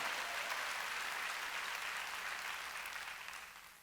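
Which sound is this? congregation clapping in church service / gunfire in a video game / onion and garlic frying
congregation clapping in church service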